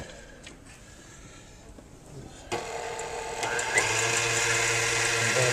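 Egg yolks are beaten for homemade eggnog with an electric mixer that switches on partway through, a steady whirring buzz that holds loud and close after a quieter start.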